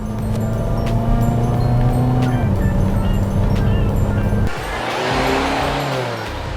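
2017 Infiniti QX30 Sport engine pulling under acceleration, its steady tone climbing then dropping quickly as the dual-clutch transmission shifts, followed by a brief dip and a renewed rising drone with road noise inside the cabin.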